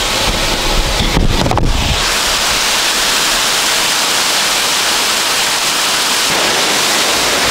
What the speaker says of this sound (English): Wow, look at this waterfall.